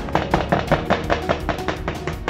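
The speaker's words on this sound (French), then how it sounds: "on va venir faire plein de petits trous à l'aide d'une fourchette pour éviter qu'elle ne gonfle énormément à la cuisson" Metal fork tines rapidly pricking a sheet of puff pastry for mille-feuille, a steady run of about a dozen sharp taps in quick, even rhythm, close and distinct with no voices.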